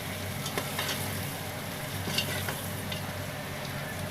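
Onions and garlic frying in a pan give off a steady, close sizzle with faint stirring scrapes and no talk.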